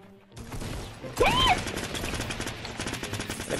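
Gunfire in the video game Fortnite, a continuous dense rattle of shots under steady game noise, moderately loud, with a brief whistling tone mid-burst and no talk.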